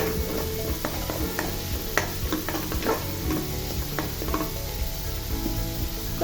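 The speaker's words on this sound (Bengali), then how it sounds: "বাটা রসুনটাকে প্রথমে আমি খুব ভালোভাবে তেলের মধ্যে একটু ভাজা ভাজা করে নিব" Garlic paste frying in oil in a pan, with a steady close sizzle and occasional clinks and scrapes of a stirring spoon.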